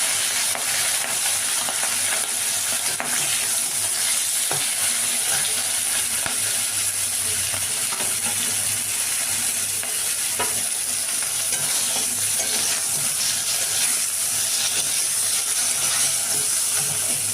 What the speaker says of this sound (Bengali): এবার মাছের মাথাগুলোকে ভালো করে ভেজে নিচ্ছি লাল লাল করে